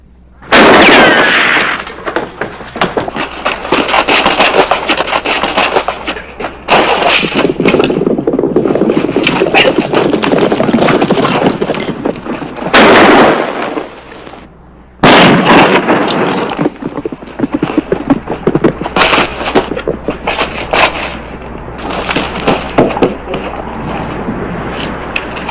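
A shootout in a western TV series: loud, dense bursts of gunfire roar almost continuously, with short breaks between volleys and no voices over them.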